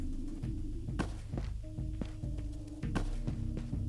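Game sounds of AK magazines being stacked into an inventory in Ghosts of Tabor, heard as a series of dull thunks and muted knocks at irregular intervals over a steady low background hum.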